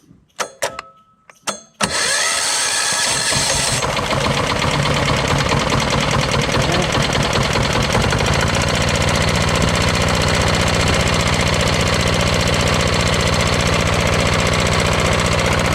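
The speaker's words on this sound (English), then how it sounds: "Sounds like a diesel, doesn't it?" A few mechanical clanks of cranking, then a 5000W diesel generator engine catches and settles into a loud, steady knocking idle up close.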